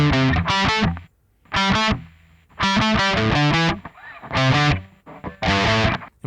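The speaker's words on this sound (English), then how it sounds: "if we move on to something maybe even a little more high gain, like a Soldano, you get this." An electric guitar runs through a high-gain Soldano amp model, playing loud, heavily distorted chords in short bursts separated by brief silences.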